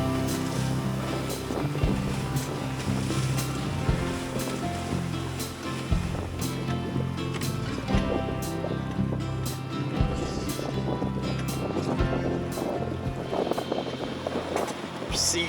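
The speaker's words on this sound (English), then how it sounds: "We're seesawing through the waves here." A Windrider 17 sailboat seesaws through waves on the Texas 200, with steady water wash and wind rushing around the hull, close and continuous, and a voice talking intermittently over it.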